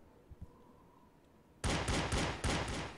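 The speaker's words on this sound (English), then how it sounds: "He threw a fucking grenade at me?" Gunfire and explosive blasts in the video game D.I.R.T. Project arrive suddenly as a loud, dense volley of booming shots after a quiet start. The sound is near and fills the rest of the moment, with no talking.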